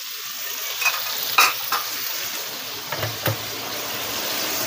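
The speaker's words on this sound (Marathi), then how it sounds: "आता बटर मेल्ट झालाय, त्यामध्ये पनीरच्या क्यूब्स टाकून घ्यायचे आहेत" Paneer cubes fry in melted butter in a pan with a steady, bright sizzle, broken by a few knocks and scrapes of a utensil moving the pieces around.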